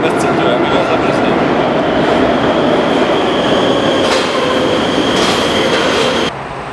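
A metro train arrives in a loud, continuous roar of wheels and motors on the rails, with faint squeals and rattles rising partway through before the noise drops off near the end.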